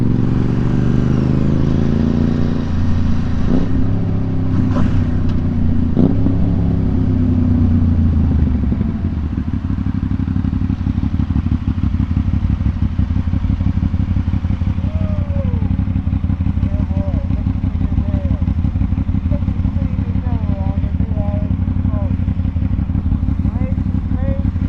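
An Aprilia RSV4 Factory motorcycle engine drones loud and close throughout, with a rising rev early on and a steady rumbling hum with wind buffeting while a voice talks over it.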